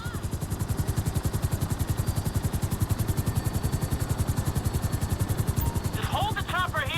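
Helicopter hovering in the video game GTA 5, a loud, steady rapid rotor chop throughout with engine hum, and a voice speaking briefly near the end.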